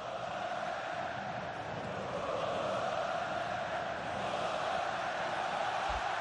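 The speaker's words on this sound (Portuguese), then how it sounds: "E a torcida grita olé" Large stadium crowd at a Flamengo versus Botafogo Copa do Brasil football match, a dense sustained roar of massed voices rising and swelling as fans chant olé, distant and continuous throughout.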